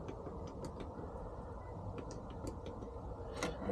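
An Ultion Nuki smart lock with a keypad and a Euro cylinder unlocks after its code is entered, giving faint, close mechanical ticks and creaks from the motor and latch, scattered over a few seconds.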